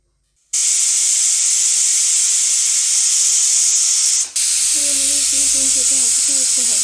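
A pressure cooker's steam whistle: loud, steady hissing steam bursts out abruptly and keeps roaring, with a brief dip and a faint warbling whistle underneath toward the end.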